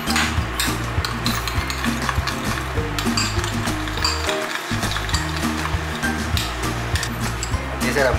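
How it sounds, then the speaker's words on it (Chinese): Garlic and cheese are stirred into Brazilian cheese bun mix, giving a steady scraping and sloshing with a constant low rumble underneath and a brief pause midway. "一起搅拌"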